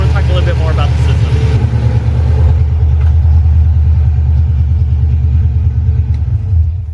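A Coyote-swapped classic Ford Mustang engine with a newly fitted exhaust idles with a deep, loud, lumpy rumble close by, then settles lower as it continues.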